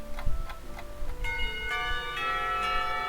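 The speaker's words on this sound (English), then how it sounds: "Bells. Very loud bells." Loud bells ring out in a visual novel game, with several struck tones building into a sustained, layered chime over soft background noise.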